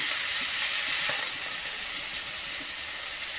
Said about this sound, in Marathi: ती आता आपण प्रथम फ्राय करून घेऊया।